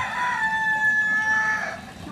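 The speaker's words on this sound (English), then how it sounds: "I think it's a teenage rooster. It's very weak." A young rooster crows once, thin and wavering, a strained high-pitched call lasting under two seconds before trailing off.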